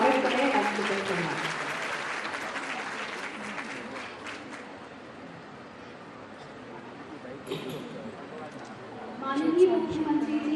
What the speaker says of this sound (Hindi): आइए तालियों के साथ स्वागत करें अक्षिता शर्मा।